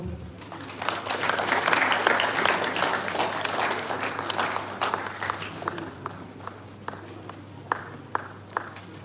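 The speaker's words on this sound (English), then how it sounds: "Thank you very much for clapping for me." Lecture audience at a School of Environmental Technology annual lecture and postgraduate conference applauds, a dense wash of clapping that thins out into scattered individual claps, with a low steady hum underneath.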